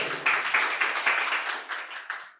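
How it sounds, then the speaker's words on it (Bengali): Audience at a quiz competition in a medical college hall claps for a winner, a dense burst of applause close by that holds steady for a couple of seconds and then thins out. "জোরে হাততালি ম্যাডামের জন্য"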